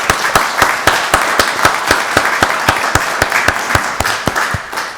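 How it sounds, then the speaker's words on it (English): Clapping at a county board of commissioners meeting at a steady, even rhythm, sharp and close, keeping a regular beat for several seconds without voices. "let's give them both another wonderful round of applause"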